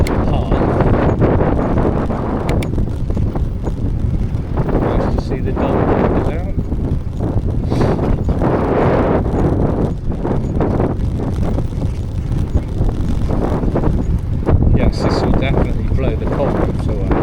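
Steady, heavy wind roars and buffets the microphone throughout while riding a bicycle along the coastal Pier to Pier cycle path between Weston-super-Mare and Clevedon, with gusts rising and falling and no break in the rumble.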